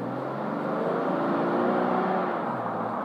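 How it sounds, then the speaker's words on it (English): A car is put through a couple of quick accelerations, its engine rising in pitch and holding a steady, close whirring drone throughout with no talk. "So I just want to do a couple quick accelerations."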